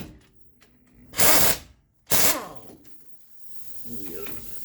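A power tool drives bolts tight during a truck CV shaft replacement, two loud bursts of whirring and ratcheting about a second apart, with someone talking faintly around them.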